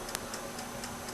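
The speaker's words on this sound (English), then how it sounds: "What is that mysterious ticking noise?" A faint, regular ticking repeats about every quarter second against a steady background hiss, a mysterious clock-like tick in a puppet comedy sketch.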